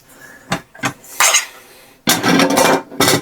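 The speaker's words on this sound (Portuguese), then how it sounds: "No meu primeiro kit eu tinha um pratinho dobrável da Sitio Summit." Camping cookware, a folding plate and a frying pan, is handled in a few sharp metallic clinks, then a longer close rattle and one last clatter.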